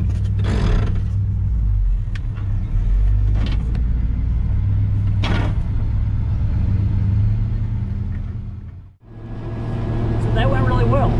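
A truck pulling an empty trailer rumbles along at steady speed, its engine a loud, continuous low drone with road noise, a brief dip near the end before the rumble resumes, and talk carries over it.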